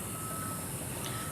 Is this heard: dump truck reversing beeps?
yes